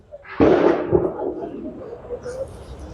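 A single sharp Diwali firecracker bang goes off nearby, its boom quickly fading into a low rumble.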